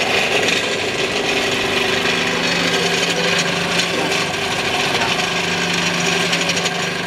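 Electric motor running steadily at rated speed beside a thermal overload relay, a loud constant hum with a dense rasping buzz and faint tonal whine throughout, unbroken for the whole stretch.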